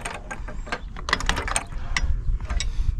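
A wrench ratchets as it tightens a propane regulator hose fitting on a 2021 Aspen Trail 1950BH RV, giving close, irregular mechanical clicks over a low background rumble.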